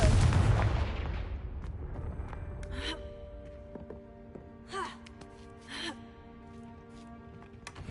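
Confringo blasting spell in a video game: a loud booming blast at the start that decays into rumble, followed by fainter magical whooshes and a couple of short vocal gasps.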